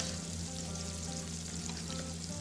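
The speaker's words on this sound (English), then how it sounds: "sausage is starting to cook down a little bit. Pan's heating up." Sausage sizzles in a heating pan beside a pot of cooking pasta, a steady, even frying hiss with no breaks, moderately loud and continuous throughout.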